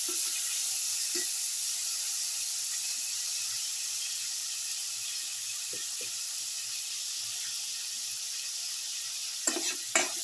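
Tomato pieces sizzle in a frying pan with a steady bright hiss, while a few soft scrapes and knocks of stirring come through, louder near the end.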